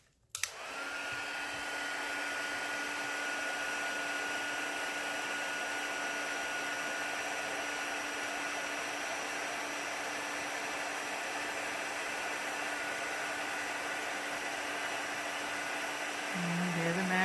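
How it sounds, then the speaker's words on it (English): A handheld heat tool melting embossing powder on a craft project blows with a steady, loud whooshing hiss after a click switches it on, continuing unbroken throughout. "set this aside so our heat tool won't blow our embossing powder all over."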